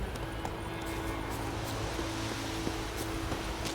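Witcher 3 horse Roach trotting, a steady soft clip-clop of hooves under a constant ambient bed with faint tack jingle, close and moderately quiet; no clear whinny stands out.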